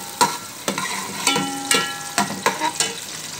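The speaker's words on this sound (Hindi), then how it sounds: "अब इसमें डालेंगे हम प्याज, ये हमने प्याज डाल दिया" Chopped onion hits hot oil in a pan, giving a steady sizzle broken by sharp clatters of stirring at an irregular beat, close and fairly loud with no talking.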